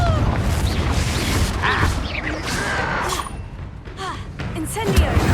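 Confringo fire spell explosions in a Harry Potter video game, with heavy booming blasts and crashing impacts, along with combat effects and shouted voices.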